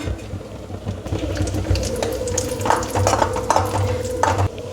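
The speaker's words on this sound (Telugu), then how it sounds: "కడాయిలో రెండు మూడు స్పూన్లు నెయ్యి వేసుకోవాలి నెయ్యి హీట్ అయిన తర్వాత జీడిపప్పు పలుకులు వేసుకోవాలి" Cashew pieces fry in hot ghee in a kadai, a soft steady sizzle with scattered crackles and the scrape of a spoon stirring, close by and fairly quiet.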